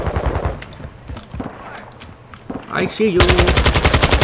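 Gunfire in the Call of Duty Modern Warfare 2 video game: scattered shots under a voice and other game sounds, then a loud, rapid machine-gun burst in the final second.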